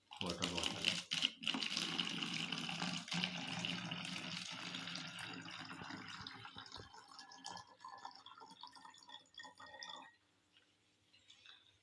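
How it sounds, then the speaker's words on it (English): Water poured into a water bottle during a science demonstration, a steady splashing fill that gradually thins and fades out after about ten seconds. "Now I am going to pour water into the water bottle."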